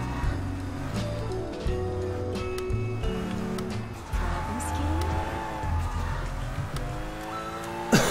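Cars in the Sleeping Dogs video game rev and whine with shifting engine pitch, broken by a few sharp skidding tire squeals, all loud and close throughout.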